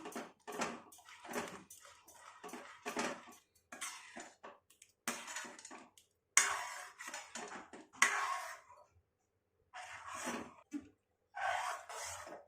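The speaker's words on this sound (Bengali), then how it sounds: "এবার আস্তে আস্তে আমি করে ঘেটে দেবো" A spoon stirs mango jelly into milk pudding in a pot, giving soft, intermittent scraping and rubbing strokes with short quiet gaps between them.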